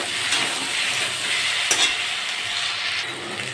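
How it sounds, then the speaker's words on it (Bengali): Taro roots with ginger-garlic paste are stirred and fried in a pan, a steady close sizzle with scraping stir strokes and one sharp clack midway, no voices. "আদা রসুন বাটা 1 চামচ দিয়ে দেবো। এরপর নেড়ে চেড়ে নেব।"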